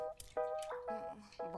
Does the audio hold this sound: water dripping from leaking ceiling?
yes